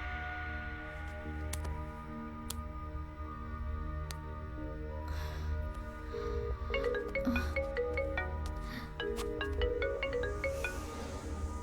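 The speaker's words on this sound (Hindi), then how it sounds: "मैंने डायल किया है। ये लोबो का फोन है।" A mobile phone rings unanswered in a Pakistani film scene, its repeating electronic ringtone tones sounding over a low droning score, the ringing growing busier and brighter toward the end.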